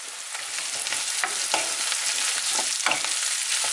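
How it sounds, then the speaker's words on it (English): Red Thai chilies and red pepper fry in a hot pan for an oxtail osso buco dish, giving a steady, close sizzle broken by the scrape and clatter of stirring. "So the red Thai chilies and the red pepper, they're going in"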